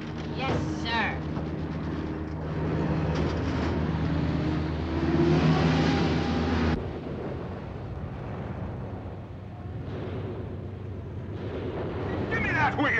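A car drives with a low, rumbling engine and road noise in a 1952 comedy film, under frequent overlapping voices and old soundtrack hiss.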